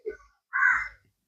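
Crows cawing outdoors, a short call followed by a longer, louder harsh caw, fairly close and standing alone against quiet.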